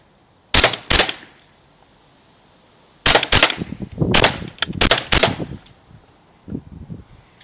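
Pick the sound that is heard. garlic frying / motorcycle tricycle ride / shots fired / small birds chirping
shots fired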